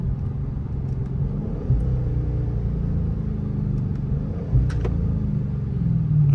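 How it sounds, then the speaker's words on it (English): A 2023 Dodge Charger Scat Pack 392 V8 with Dynomax Race Bullet exhausts rumbles through downshifts, a deep, steady, loud exhaust drone with a couple of brief blips, heard close and with no talk. "Get y'all a few downshifts."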